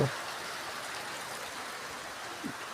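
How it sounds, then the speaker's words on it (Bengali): Heavy rain falling outside a house, a steady, fairly faint wash of hiss that continues evenly throughout, with a soft thump at the start and no voices. "আজকে বৃষ্টি হচ্ছে প্রচণ্ড"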